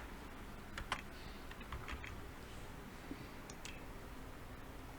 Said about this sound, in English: I just type it in